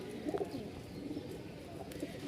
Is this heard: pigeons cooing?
yes